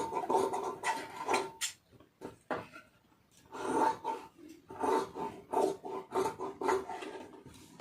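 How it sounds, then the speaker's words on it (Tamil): Scissors cutting blouse fabric close up: short rasping snips in irregular bursts, quiet and near, with pauses between cuts. "ஒரு முக்கால் இன்ச்சு அளவுக்கு வந்து கட் பண்ணிக்கிறோங்க"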